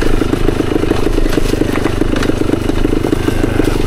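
A 1972 Yamaha DT2 enduro motorcycle rolls downhill over a leaf-covered trail, its engine close and loud with a steady, rapid rattling putter and small throttle variations, with no talking.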